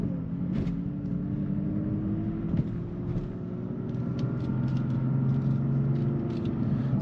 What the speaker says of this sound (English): let's go out, guys, and take a quick ride in this M4 and see how this feels.